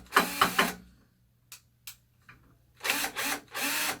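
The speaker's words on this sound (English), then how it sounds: "screw the M6 bolts just like this" M6 bolts being screwed in by hand to join two FlexQube FlexBeam steel beams: close, dry bursts of metallic ratcheting and scraping, a few faint clicks in between, then longer grinding spells.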